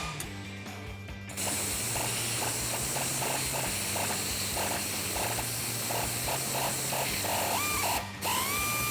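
A socket wrench on a 16mm socket loosens the nut of a sway bar end link on a Dodge Challenger, a fast steady ratcheting clatter running nearly nonstop, close and loud, with a brief pause near the end.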